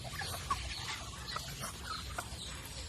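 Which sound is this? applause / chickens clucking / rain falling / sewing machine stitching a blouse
chickens clucking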